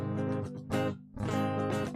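Electric guitar playing rhythm chords in a short live practice riff, two strummed chord bursts with a brief choked gap between them, close and fairly loud with no voice.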